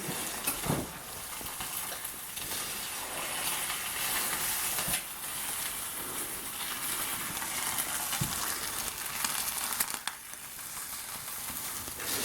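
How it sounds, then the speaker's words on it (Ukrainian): Eggs fry in a stainless steel pan on a small stove, a steady close sizzle and hiss broken by a few soft clinks and knocks. "батько вже тут смаже яєчню"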